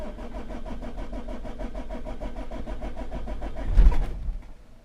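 A camper van engine cranks with a fast rhythmic whir of the starter for several seconds, then catches briefly with a louder burst before dying away, heard close and alone.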